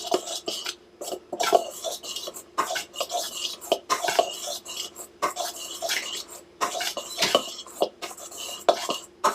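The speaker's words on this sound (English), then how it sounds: "And then I just mix this all in." A spoon clinks and scrapes around a bowl while homemade dog food is stirred, a steady rhythm of close, bright metallic taps and rubbing with no talk.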